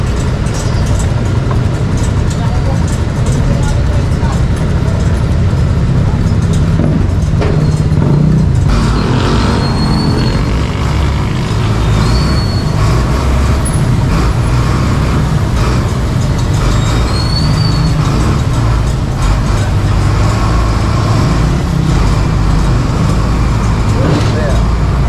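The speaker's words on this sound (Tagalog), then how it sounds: "Grabing traffic ah." Heavy road traffic with cars and buses, a constant dense roar of engines and passing vehicles close by, with people talking over it.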